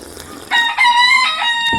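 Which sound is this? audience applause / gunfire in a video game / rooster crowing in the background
rooster crowing in the background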